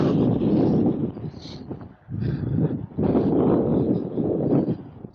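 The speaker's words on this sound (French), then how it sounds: "Il y a des bonnes rafales, ça fait vraiment bouger le vélo." Strong wind gusts buffet the microphone while riding a bicycle outdoors, making a loud, low, rumbling roar in surging waves with a brief lull in between.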